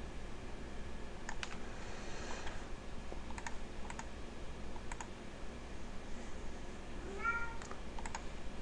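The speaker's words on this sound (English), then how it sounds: "That's my cat, if you hear someone." A house cat gives a short, faint meow late on, under steady computer keyboard typing and clicking against a constant hum.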